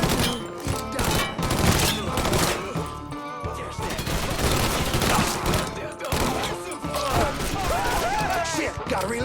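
Gunfire in Mafia III on PC, delivered as dense, repeated loud shots and volleys that continue almost without pause, mixed with impacts and a voice talking over the shooting.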